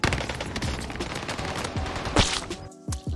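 Rapid bursts of automatic gunfire in the video game Warzone, several close, loud volleys in quick succession with sharp cracks and a brief gap near the end.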